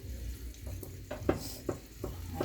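A small spoon mashes soft green mango flesh for Guyanese-style atchar, making quiet wet squishes and a few light clicks of metal against the bowl at an uneven pace, close and faint.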